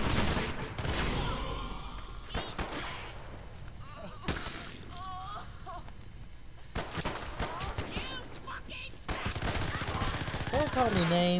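Gunfire in the violent shooter video game Hatred, with rapid bursts of automatic shots and single cracks coming in loud clusters and breaks of game noise between them.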